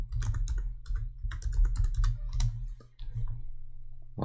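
Computer keyboard typing a folder name, a burst of crisp close key clicks in quick irregular rhythm, pausing briefly near the three-second mark before a few more taps over a low steady hum.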